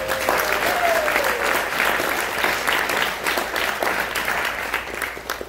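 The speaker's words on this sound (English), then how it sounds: "Let's have a round of applause for them" Theater audience applauding the crew at a street theater lecture event, a full, sustained wash of many hands clapping that stays even and loud, thinning slightly at the end.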